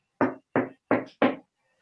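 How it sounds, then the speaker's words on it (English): Four firm knocks land on a thick concrete wall, dull and close, in a steady rhythm across under two seconds, followed by quiet. "Let me try knocking on the wall."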